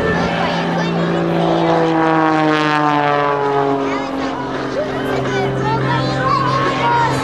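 Propeller aerobatic airplane tumbling through its own smoke at an air show, engine droning loudly with a falling then steady pitch under an announcer's voice over the public address.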